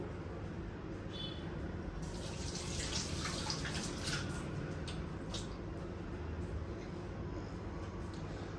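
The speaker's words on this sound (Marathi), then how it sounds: "तर आता मी पहिले हे हात धुवून घेते।" Hands being washed under a steady stream of running tap water in a home kitchen, a continuous close wash of water with brief splashes and no talk over it.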